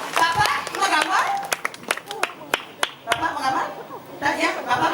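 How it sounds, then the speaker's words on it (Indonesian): Audience at a Calonarang performance at Pura Gede Batur Pengembungan, Pererenan, breaks into scattered clapping for a flute player, sharp individual claps mixed with lively chatter and voices throughout. "tepuk tangan buat tukang suling dulu luar biasa"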